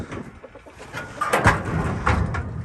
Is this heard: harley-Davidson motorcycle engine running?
no